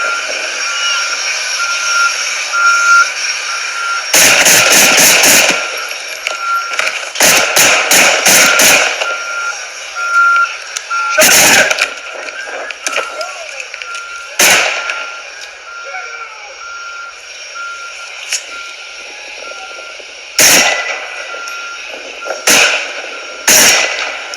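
Gunshots ring out from a recorded video of a man shooting an Appleton, Wisconsin firefighter: sharp loud bursts in quick clusters, several rapid volleys then isolated single shots, over a steady radio-like hiss and background chatter.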